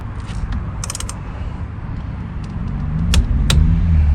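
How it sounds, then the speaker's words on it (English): A torque wrench tightens a fastener to 15 newton metres on a Peugeot 107 / Toyota Aygo / Citroen C1 during an indicator stalk replacement, with steady mechanical ratcheting, a few sharp clicks and a rising strain toward the end. "now we're going to torque this stack, which is torque for this vehicle is 15 Newton meters"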